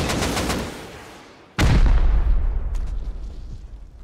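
A rocket fired in the zombie-mode Rust game during a raid, with a low whoosh before a sudden loud, booming blast that rumbles and fades out, with no one speaking.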